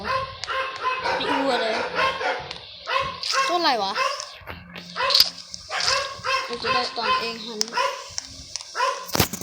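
A dog barks in short repeated bursts close by while someone talks over it throughout, with a whiny yelp in the middle.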